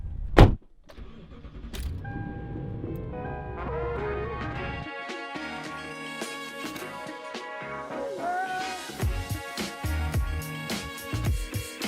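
A truck drives along a road in a steady, continuous run. A sharp thump at the start gives way to a constant engine and road rumble, with occasional rattles and knocks throughout.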